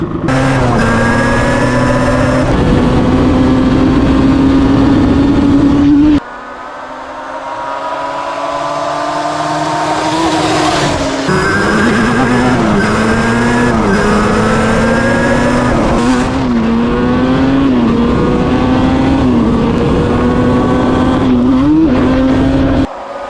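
A Yamaha Banshee ATV engine fitted with a cheap aftermarket CDI gives a loud, steady idle with a rough, throaty tone, briefly dropping lower partway through, then continuing with slight revving fluctuations.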